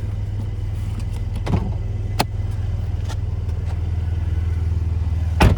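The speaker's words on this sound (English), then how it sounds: "It's just sitting here purring in park." A 2020 Mercedes-Benz SL450 with a 3.0-litre twin-turbo engine idling in park with the hood open, a steady low hum close by, broken by a few sharp clicks and clatters.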